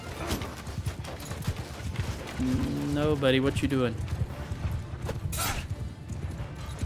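Cavalry horse hooves clip-clop and a horse whinnies amid battle noise in the video game Mount & Blade II: Bannerlord, while someone talks over the commotion.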